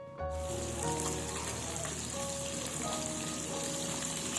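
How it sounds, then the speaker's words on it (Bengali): Fish, including pabda, frying in a pan on a rooftop on a cold, foggy day, giving a steady loud crackling sizzle like rain that starts abruptly and carries on without pause. "এখানে কিছুটা মাছ ভাজতে দিয়ে দেওয়া হয়েছে"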